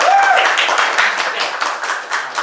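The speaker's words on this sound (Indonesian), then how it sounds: "Jadi tepuk tangan dulu ya." Studio audience clapping at a motivational talk on reaching targets in one day, a dense, steady patter of many hands, fairly loud and close, with no talk over it.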